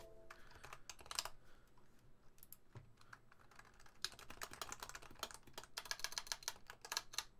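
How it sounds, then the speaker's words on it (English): A Top Clack mechanical keyboard is typed on up close: quick irregular bursts of crisp clacky keystrokes, with denser runs of key presses toward the end and no talking. "If only there'd be a big difference in typing sounds."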